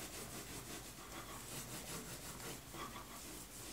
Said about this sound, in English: I'm gonna go ahead and burnish that on.